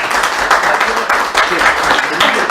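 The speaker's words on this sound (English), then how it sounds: "I like we did a hand applaud" A room of people gives a short burst of hand applause, loud and close, with scattered claps and voices mixed in under it.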